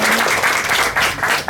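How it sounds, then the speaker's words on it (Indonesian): Applause from a crowd greeting Christine, dense and loud throughout at an informal gathering, steady clapping with no voices on top. "tepuk tangan dulu buat Christine yang kedua ya"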